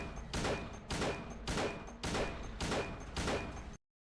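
Six evenly spaced handgun-style shots in Silent Hill 2, each a sharp crack with a brief ringing tail, fired at a steady rhythm about every half second before abrupt silence.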